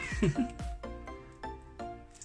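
A cat meows several times close by in a home kitchen, a series of short, insistent cries with brief pauses between them.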